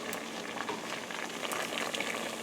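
Squash at a hard rolling boil in a pot of water makes a steady, dense bubbling and hissing, continuous and fairly close with no talk.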